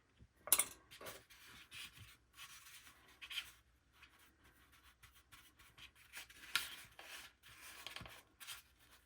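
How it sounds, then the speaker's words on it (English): Scissors snipping and rubbing through excess fabric on a Dollar Tree decoupage craft pumpkin, heard as quiet, close, intermittent cutting strokes with brief pauses. "let's take my scissors and just cut off any excess here"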